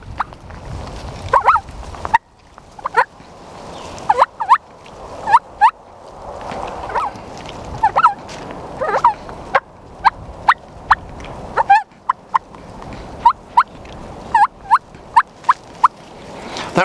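Turkey hen yelps and clucks made on a hand-held turkey call for hunting hung-up gobblers, a voice-like imitation in short bursts and rhythmic series, close and fairly loud, with no talking.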